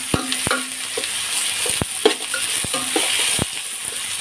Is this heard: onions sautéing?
yes